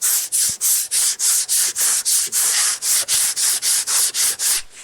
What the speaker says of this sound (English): sanding the filler up to where it needs to be